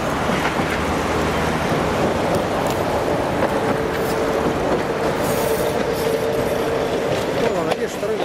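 A tram rolls along the tracks on a city avenue, a loud, close, continuous rumble of wheels on rail with squealing and clatter, while people talk over it.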